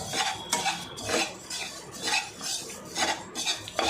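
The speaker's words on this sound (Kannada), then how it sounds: "ಮೆಂತ್ಯ ಜೊತೆಗೆ ಮಿಶ್ರಣ ಮಾಡಿ ಹುರಿತಾ ಇದ್ದೀವಿ" Asafoetida and fenugreek roast in a pan, heard as a spoon scraping and stirring against the metal in repeated strokes roughly every half second, close and steady, with no talking.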